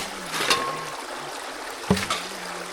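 Creek water pours and trickles over gold prospecting gravel in a frozen northern Wisconsin creek, a steady wash with a couple of sharper splashes and scoop clatters close by.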